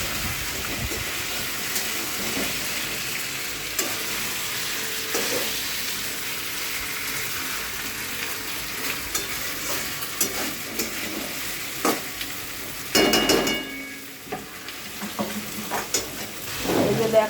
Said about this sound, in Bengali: এবার তোমার দাদাভাই আলু দিয়ে দিচ্ছে মটনের মধ্যে। এবার আলু দিয়ে একটু কষিয়ে নেবে।